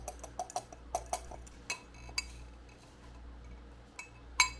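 Chopped crackers get stirred in a bowl for an apple pie cheesecake crust, giving scattered light clinks and ticks of a utensil against the bowl, fairly quiet and irregular.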